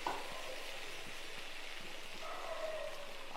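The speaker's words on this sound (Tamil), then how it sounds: "இப்போ இதில் நம்ம சேப்பங்கிழங்க சேர்த்துடலாம். கொஞ்சம் கொஞ்சமாக போட்டு நம்ம பொரிச்சு எடுத்துக்கலாம்." Taro pieces deep fry in hot oil, a faint, steady sizzle and fine bubbling crackle throughout with no talking.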